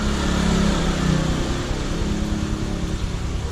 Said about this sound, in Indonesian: ini agak berisik karena pinggir jalan jadinya banyak motor-motor lewat